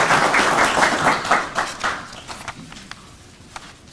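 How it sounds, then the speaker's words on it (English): An audience at a university lecture in Texas gives a round of applause for Andy Lee, dense clapping that thins out and fades to scattered claps over a few seconds. "So please give another round of big applause to Mr."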